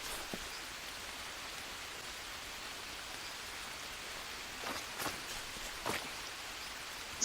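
Soft, steady rain falls in the jungle survival video game Green Hell, a faint even hiss with a few slightly louder drops near the end.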